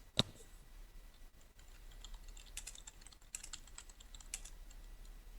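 Computer keyboard keys tapped in short, quiet bursts while a chart title is typed into a spreadsheet, soft clicks with brief pauses between them, close by and with no talking.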